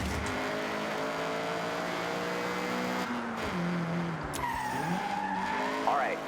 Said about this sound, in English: get the CRX up to speed